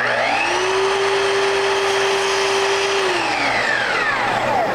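Power saw cutting wood trim for a Victorian door head, a loud close whine that spins up, holds a steady pitch through the cut and winds down, with no voices.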